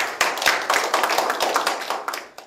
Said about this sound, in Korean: 우리 조상호 대표님 축사 있게 큰 박수 부탁드립니다.